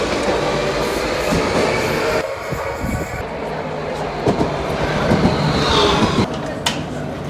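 A metro train ride in Madrid rumbles steadily with rail noise and clatter, changing in tone as the carriage moves, with brief squeals and thumps and no speech.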